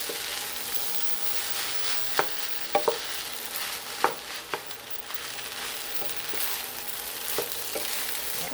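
An egg fries in butter and is stirred for Korean fried rice: a steady, soft sizzle throughout, with a few sharp clicks and scrapes of the utensil against the pan.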